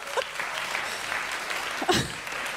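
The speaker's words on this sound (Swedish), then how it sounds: "Det är bara tjejerna som applåderar." Applause from an audience at a stand-up comedy club, a steady patter of clapping throughout with a brief laugh or shout rising near the end.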